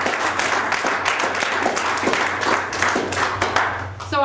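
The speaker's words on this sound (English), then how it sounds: "I'd like to give our panelists a round of applause" An audience claps for panelists after a session on fish and wildlife management careers, scattered but sustained hand claps over a low steady hum, moderately loud and close.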